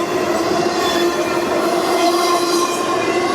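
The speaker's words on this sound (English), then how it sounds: "our train is past the last crossing to the south of town" A train south of town in Madisonville, Kentucky, picks up speed past the last crossing, giving a loud, steady rumble of wheels on rail with a sustained metallic whine, close by.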